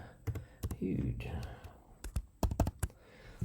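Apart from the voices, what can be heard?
typing on a computer keyboard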